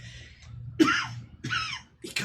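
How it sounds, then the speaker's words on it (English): Harsh coughs come in three quick, separate bursts, close and fairly loud, with quiet breathing between them. "He coughs."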